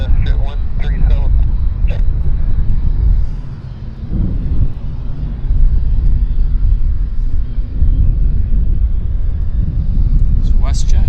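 Airliner arriving at Vancouver Airport, WestJet or JAL, heard as a steady broadband rumble of jet engine noise that continues throughout, with voices talking over it.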